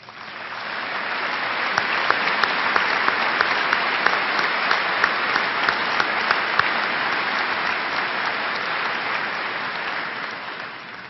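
Sustained applause from a large audience at a high school commencement ceremony, steady and even throughout, with scattered sharper individual claps standing out from the dense wash of hands.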